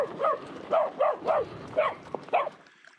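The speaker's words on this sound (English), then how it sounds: "One of Mira's best qualities is how non-reactive she is to other barking dogs" Dogs bark and yip from nearby along a Mexican Copper Canyon bikepacking route, six or seven short, quick barks in an uneven run that fades out at the end.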